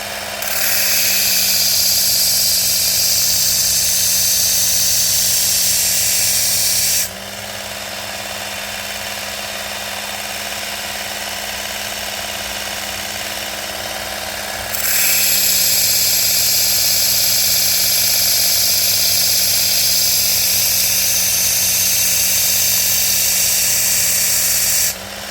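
Steady grinding whine of a knife edge on a Work Sharp Ken Onion belt sharpener, a continuous motor hum with abrasive hiss that drops in level midway, then returns louder for the final stretch.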